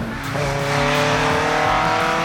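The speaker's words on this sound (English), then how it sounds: "with just an epic engine up front, but so much noise and fury and vibration" A loud rally car engine roars and climbs in pitch as it accelerates hard, close and continuous, with gritty harmonic rasp.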